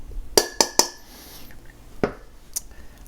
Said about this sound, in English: Let's mix these blueberries around just a little.